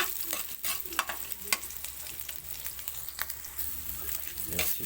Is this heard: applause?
no